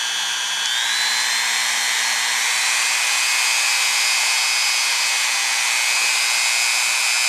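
A Dremel rotary tool whines at high, constant speed, polishing the parkerized finish off AR15 trigger parts. The sound is close and steady, with slight pitch shifts as the load changes and no talking.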